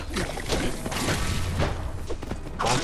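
An explosion during a multiplayer tower run in the video game Minecraft Dungeons, heard amid dense, noisy game action: booming thumps and rushing bursts pile up throughout, with a loud burst at the end and no talking.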